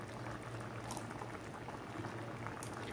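Green gram payasam boiling in milk on a stove, a steady dense bubbling and simmering that carries on without a break for a few seconds, close up.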